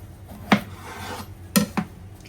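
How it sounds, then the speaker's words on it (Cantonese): A knife slices a long angled luffa gourd in half on a board, giving three crisp chopping knocks: one, then two close together about a second later, with no one talking. "如果你個角瓜或者勝瓜係較為長嘅話呢，就將佢先開半"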